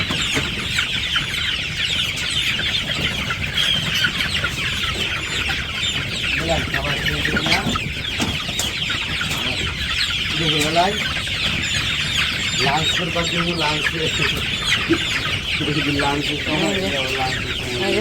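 Chickens cluck and call continuously in a village coop, with a steady dense hubbub of hens and occasional wing flapping throughout, moderately loud and close.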